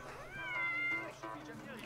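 A cat in Assassin's Creed Mirage gives one drawn-out, rising and falling meow near the start, with game ambience and someone talking over it.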